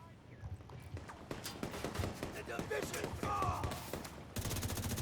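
Rapid SMG fire fitted with the flatline talent in Division 2 rattles in quick bursts of sharp shots, fairly faint and busy, with other game effects mixed around it.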